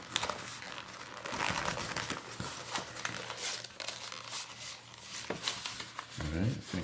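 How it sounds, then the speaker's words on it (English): A small piece of cardboard crinkles and scrapes as it is rolled up by hand into a tree trunk shape for a sculpture, giving a continuous close rustling with no clear speech. "I cut a smaller piece of cardboard and I roll it up in a tree trunk"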